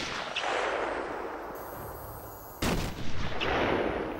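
Sniper rifle fire in the video game Batman: Arkham Asylum, broadband game gunfire bursts with a sharp loud report near the end over a steady noisy background, no talking.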